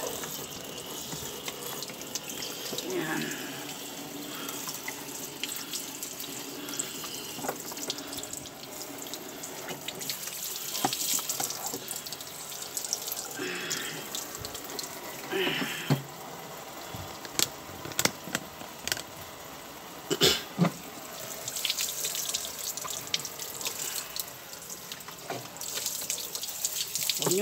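Water runs and splashes over an upturned Toyota Altis headlight lens being rinsed, a steady trickling flow with scattered drips and knocks, while someone talks now and then.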